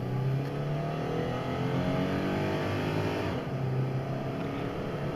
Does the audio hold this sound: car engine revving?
yes